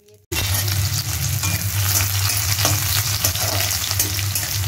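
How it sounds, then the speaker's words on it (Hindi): Cumin and square-cut onions hit hot mustard oil for a beans sabzi, setting off a loud, steady close sizzle that starts abruptly after a brief quiet moment and continues unbroken with light stirring textures, with no talking. "तो यहाँ पर तेल गर्म हो चुका है और मैं अब इसमें जीरा डालूंगी, फिर स्क्वायर शेप कटे हुए प्याज डालूंगी।"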